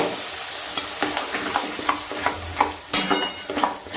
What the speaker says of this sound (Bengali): কাজু, পেঁয়াজ আর কাঁচা লঙ্কার পেস্টটাও দিয়ে দিলাম, দিয়ে ভালো করে সব একসাথে কষবো